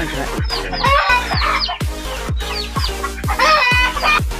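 Several chickens cluck and squawk close by, with busy overlapping calls and a few sharp percussive knocks, loud and continuous throughout.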